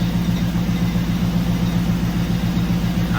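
A 1980 Chevrolet C10 pickup with an LS swap engine idles close by with a rough, uneven beat, as if missing on a cylinder. The low pulsing runs steadily throughout, with no talk.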